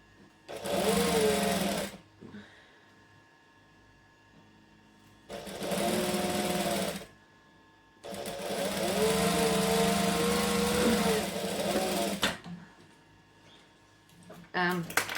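A sewing machine stitches a Burda 6840 shirt in three long runs of steady whirring separated by quiet pauses, with a brief clatter at the end.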